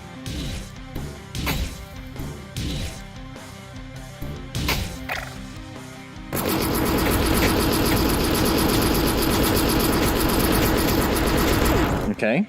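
Pistol shots from the VR game PlanTechtor ring out as sharp repeated cracks over a loud soundtrack, giving way to a dense, heavy metal music passage at full volume.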